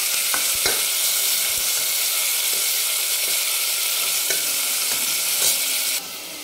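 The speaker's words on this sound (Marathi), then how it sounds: "लगेच आपण जे धुवून ठेवलेलं मटण आहे ते टाकून घेऊ। छान परतून घ्यायचं तेलामध्ये" Washed mutton sautés in hot oil with turmeric, a loud, steady close sizzle punctuated by regular scraping knocks of a spoon stirring the pan.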